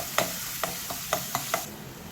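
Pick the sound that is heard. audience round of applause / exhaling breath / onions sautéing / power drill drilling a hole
onions sautéing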